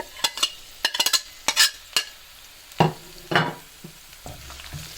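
Chopped chilli and garlic hit hot oil with a burst of sizzling, followed by scattered stirring scrapes and clinks, close up with no talk.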